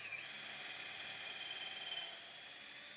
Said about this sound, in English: Start the drilling slowly.